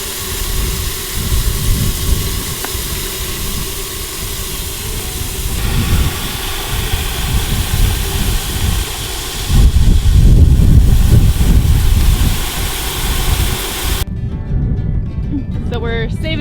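Water rushes from a released valve on a busted homestead water main, a loud, steady hiss and roar with low rumble that swells midway, then cuts to quieter sounds near the end.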